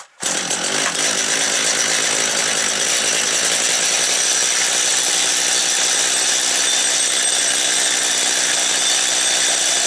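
A Stihl 230 chainsaw engine fires up and runs at high, steady revs, a loud, harsh, continuous buzz close by that holds for the whole stretch without any talk.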